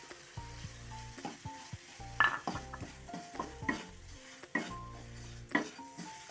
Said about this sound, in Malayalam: എല്ലാം ഒരുമിച്ചൊന്ന് മിക്സ് ചെയ്ത് കൊടുക്കാം